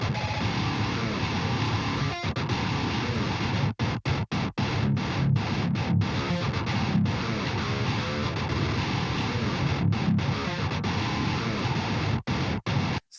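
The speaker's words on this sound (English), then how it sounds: "here is a riff I made using this guitar." Heavily distorted metal riff from the Odin III MIDI guitar plugin, a dense low-tuned chugging wall of sound broken by sharp rhythmic stops and palm-muted gaps, loud and without any voice.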